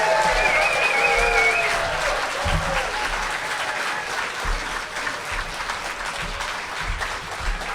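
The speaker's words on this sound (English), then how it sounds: "please welcome to the stage with thunderous applause" Applause from a live storytelling-contest audience greets a performer taking the stage at a liars contest, a dense, loud burst that fades somewhat but keeps clattering steadily throughout.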